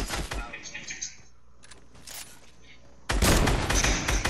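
Sniper gunfire in a video game: sharp bursts of shots at the start and a loud volley near the end, with quieter game sounds between and players talking.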